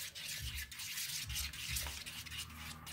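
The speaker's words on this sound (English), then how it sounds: "I'm using a plastic spork on this plastic bowl" A plastic spork scrapes and rubs through soft slime in a plastic bowl, giving quiet, continuous squelchy scraping strokes at close range without speech.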